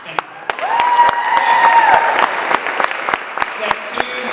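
Loud applause and cheering from an audience at Zelaiah's EP release show, punctuated by sharp, strong claps, with voices and a sustained tone running underneath.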